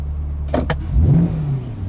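A Chevrolet C8 Corvette with its mid-mounted engine sits still in neutral: a couple of sharp clicks, then one short, loud, low engine rev that swells and settles, heard close with no talking.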